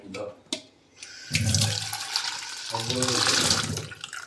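Water poured onto a potted plant, a splashing, gurgling stream that starts after a couple of brief knocks and runs steadily for about three seconds, close by, with a voice heard briefly at the start.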